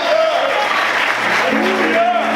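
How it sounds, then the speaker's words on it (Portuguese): A church congregation applauds during a sermon, a short, dense, steady burst of clapping. A voice sounds over the applause. "Quantos podem aplaudir e exaltar esse Deus maravilhoso?"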